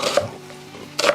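Two crisp knife chops through an onion on a cutting board, one near the start and one near the end, with a quiet pause between them.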